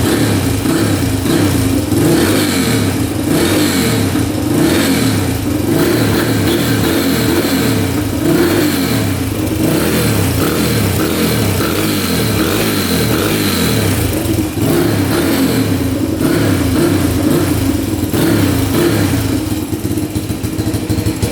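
Loud, continuous revving from a 1980 Honda dirt bike engine fitted with an aftermarket exhaust, a close, raspy roar that rises and falls steadily throughout with no voices.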